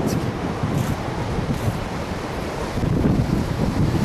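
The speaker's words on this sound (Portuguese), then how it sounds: "Braço de mar. A praia de Jacaraípe ao fundo." Ocean waves wash steadily onto Jacaraípe beach at an arm of the sea, a continuous broad surf roar with wind buffeting the microphone throughout.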